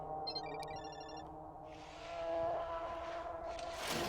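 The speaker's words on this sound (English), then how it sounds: "we do hear her phone nearby, which is quite odd" In a horror video game, a phone rings nearby with a short electronic trill, then fades beneath a rumbling, shifting ambient drone and a swelling noisy rush.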